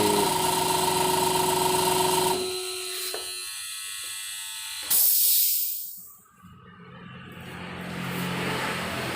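A second-hand air compressor motor runs with a steady electric hum and hiss, then cuts out, followed by a sharp burst of released air and a quieter rising whir as it settles.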